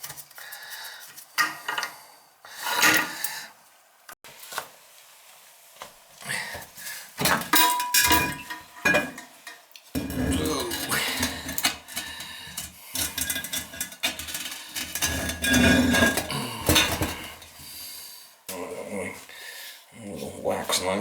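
A wax knife scrapes and scrapes the old wax ring from a leaking older toilet's base in uneven bursts of gritty, clunky scraping, close up, with pauses between.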